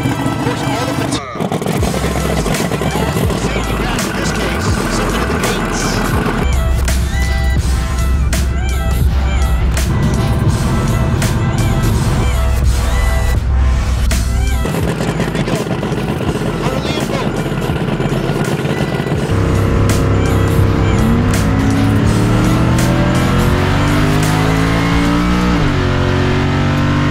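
A 1967 Pontiac Le Mans drag car, nicknamed Timmy Two Turbos, roars and revs loudly at Pueblo Motorsports Park, its engine pitch climbing steadily near the end over a constant heavy rumble.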